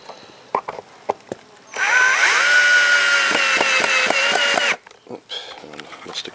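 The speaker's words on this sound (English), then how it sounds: "So hold on, a bit of drill noise." A power drill whirs close by for about three seconds, steady and loud, while boring holes in a mason bee nesting block, with sharp knocks and clatter before and after it.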